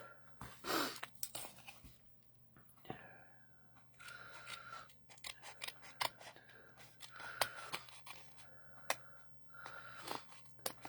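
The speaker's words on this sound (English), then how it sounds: "I'm just going to grab my scissors and just snip it off." Scissors snip off excess material during a craft class: a series of quiet, close, crisp cuts arrive in uneven bursts, with small rustles and handling noises between them.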